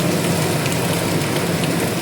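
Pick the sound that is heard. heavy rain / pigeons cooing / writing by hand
heavy rain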